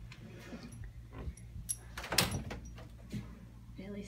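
Caravan cupboard doors open with a few soft clunks and light rattles in a quiet interior, spread over several seconds with faint room noise between them.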